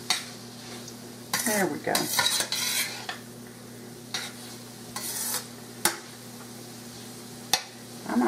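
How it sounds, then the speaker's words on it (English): Garlic sizzling in a pan for marinara, a soft steady fry under scraping and stirring of a utensil against the pan with a few sharp clinks, close by, one brief spoken remark. "But don't ever burn garlic, because you can't eat it."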